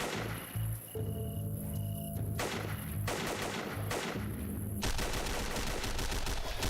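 Rapid bursts of automatic gunfire with dense game shooting effects in Battle Stations Blockade, loud and continuous throughout, with no talking.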